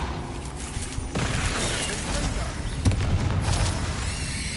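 Booming spell blasts from Hogwarts Legacy combat, with a sharp hit near the middle and dense crackling impacts layered under in-game noise and a voice shouting spell names.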